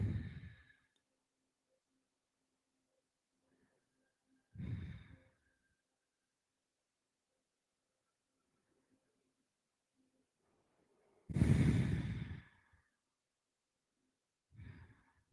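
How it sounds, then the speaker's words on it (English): Slow, deep breaths during a lying-down yoga rest, four audible exhales or sighs spaced several seconds apart with near silence between, close and soft. "we'll take a few breaths there"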